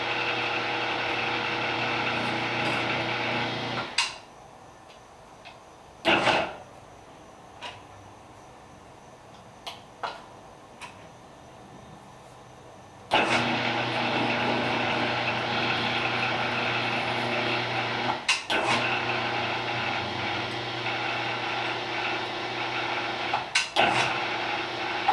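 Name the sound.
1930s Walker lift moving and binding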